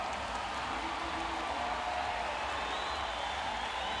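Crowd in the Olympic Aquatic Stadium at the Rio 2016 Paralympic Games cheering for a Brazilian swimmer in a men's 200m IM SM6 heat, a steady, distant wash of roaring and clapping throughout.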